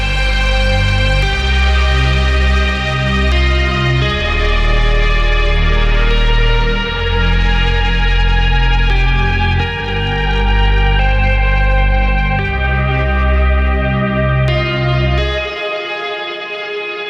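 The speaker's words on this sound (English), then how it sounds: "Slight amount of reverb on the low pad, and quite a lot of reverb on all the other stuff" Layered synth pads and a lead line ring out loudly, drenched in heavy reverb with long washing tails, the low pad drier beneath, before the sound cuts and a reverberant tail fades alone.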